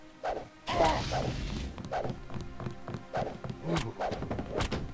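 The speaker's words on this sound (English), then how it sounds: "Alright, now we smack him." A melee strike smacks an enemy in the video game Deus Ex, a sharp thwack followed by a run of thuds, swishes and footsteps at moderate volume with no talk.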